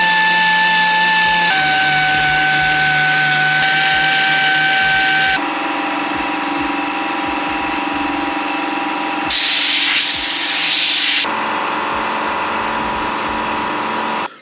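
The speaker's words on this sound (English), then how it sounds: "we're going to get our little mini DA sander here, and I'm just going to sand the face" A small mini dual-action sander works across the machined face of a custom Honda K20 engine cover, giving a loud, steady whirring buzz that changes pitch in several stages through the run, with no talking.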